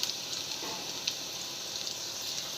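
Grated coconut, onion and garlic frying in a pan, a faint steady sizzle with soft crackles and occasional small pops, no talking.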